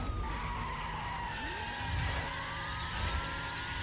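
Cars launch at the start of a race in the video game The Crew, with dense engine roar and tire-skid noise throughout, loud and continuous, with no talking.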